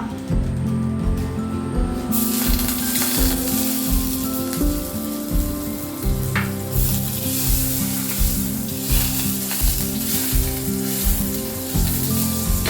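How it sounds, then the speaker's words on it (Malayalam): Butter sizzles steadily in a frying pan on the stove while pasta is being made, a continuous close crackle with low rhythmic stirring and scraping underneath, no one talking. "ഇനി ഒരു പാൻ അടപ്പത്ത് വെക്കുക, ഇച്ചിരി ബട്ടർ ചേർക്കുക"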